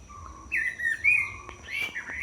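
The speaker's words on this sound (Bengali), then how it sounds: "আমি পাখিটার শব্দ শুনতে এসেছি" A bird gives a few bright, whistled chirps close by, rising and falling in short phrases over a quiet background.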